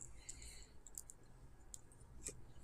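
A handful of faint, sparse mouse clicks on the AutoCAD application menu, soft and quiet over a low background hum.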